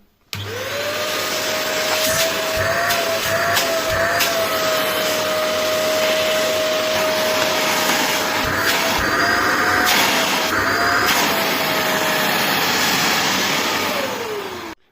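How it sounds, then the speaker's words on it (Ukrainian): A 3000W upright corded vacuum cleaner runs steadily and loudly throughout, with a constant motor whine that wavers slightly in pitch and faint knocks as it is moved. "Цей пилосос має кабель довжиною 5 метрів. І давайте подивимось, як він працює."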